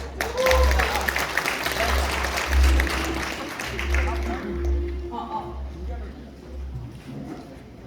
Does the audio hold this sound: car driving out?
no